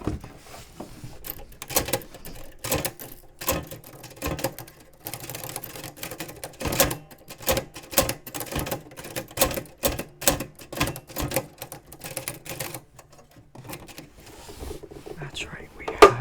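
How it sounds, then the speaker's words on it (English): Old manual typewriter typing in a quiet room, rapid irregular bursts of sharp key clacks with brief pauses, close and crisp, ending with a carriage sound. "That's right, we have a typewriter."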